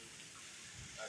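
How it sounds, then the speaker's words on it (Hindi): Heavy rain with hail pouring down steadily, a dense, even hiss close by with no break across the whole moment. "बहुत तेज बारिश ले हुई"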